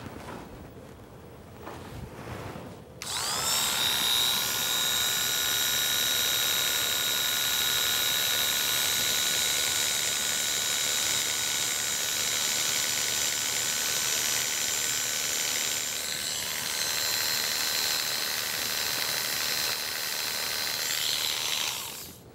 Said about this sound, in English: we're going to go ahead and shave a small area of fur above that location.